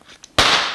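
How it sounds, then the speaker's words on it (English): A party popper bursts open inside a car detailing subscription box: faint rustling and a light tap, then one sharp loud crack followed by a brief decaying hiss. "you guys put a party popper in here"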